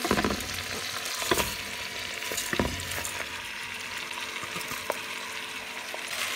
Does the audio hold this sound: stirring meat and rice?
yes